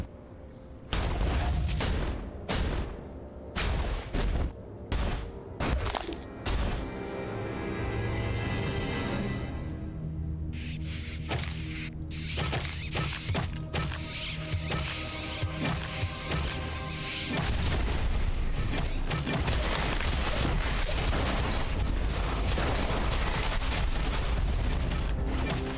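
Gunfire and explosions in the video game Guardians: a rapid string of sharp shots, then heavy booms and crashing blasts that roll into a loud, continuous barrage of fire.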